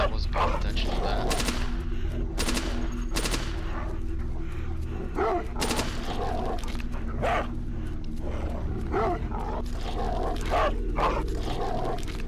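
Gunfire bursts from a weapon in the VR zombie shooter Into The Dead, several sharp shots in quick clusters spread across the stretch over a constant game backdrop, with dogs and a voice partly overlapping.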